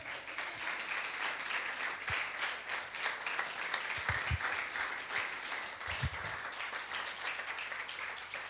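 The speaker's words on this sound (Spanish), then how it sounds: "¿Cuántos le dan un aplauso al Señor esta mañana?" A church congregation applauds during a Sunday morning service, steady clapping from many hands filling the room, with a few low thumps scattered underneath.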